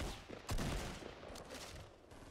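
A burst of rapid gunshots rings out in the battle royale game Fortnite, with one strong volley near the start and scattered quieter shots trailing after it.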